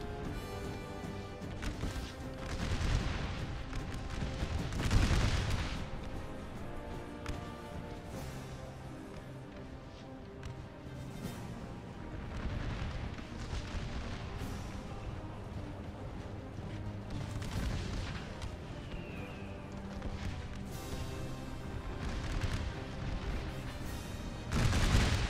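Civil War musket volleys and Napoleon cannon fire boom across a cornfield battle in a video game, with heavy blasts and crackling rifle fire rolling continuously and loudly over the whole stretch.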